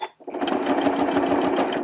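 A sewing machine stitches steadily through free-motion quilting, its needle running in a fast, even mechanical chatter that starts after a brief pause and holds close and loud for the rest of the moment.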